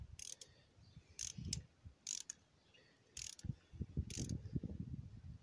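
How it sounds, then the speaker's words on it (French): A ratchet tightens spark plugs on a Nissan Pixo 1.0 engine. It gives five short bursts of rapid clicking with low knocks in between, close up and with no talk. "maintenant on prend le cliquet et on serre les bougies, mais modérément"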